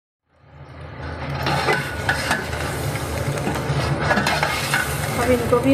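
Mutton frying with tomatoes and spices rises from silence into a loud, dense sizzle that is close up and continuous, with stirring scrapes and rubs against the pot and no talk over it.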